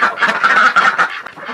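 Loud, close honking quacks from a farm duck sitting in the snow in winter, a run of harsh calls followed by a brief pause and one more.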